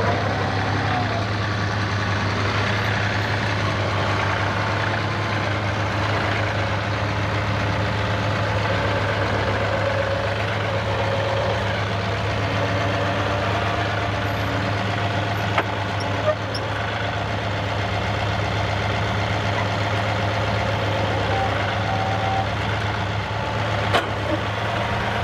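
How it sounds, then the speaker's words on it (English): A pickup truck idles nearby, its steady engine rumble droning loud and constant throughout with faint higher-pitched noise and a few small clicks over the top. "I just can't get enough traction with the truck because it's picking up so much weight off the back end of the pickup."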